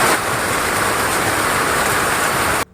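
Steady rain pours down on leafy potted foliage plants such as aglaonema in a garden, a dense continuous hiss that holds evenly close by, with no talking, then cuts off abruptly at the end.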